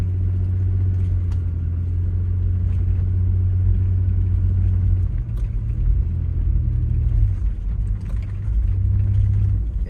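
A 1999 Toyota 4Runner in two-wheel drive climbs a hill, its engine rumbling loud and steady from inside the cab. The low drone holds throughout, shifting pitch slightly as the truck labours upward.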